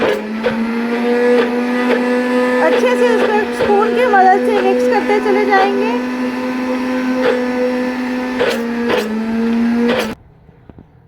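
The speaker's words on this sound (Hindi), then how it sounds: "ब्लेंडर को हमने पूरे 3 मिनट के लिए चलाया है।" A blender making eggless mayonnaise whirs steadily at a high, even pitch for about ten seconds and then cuts off. A person talks over the motor.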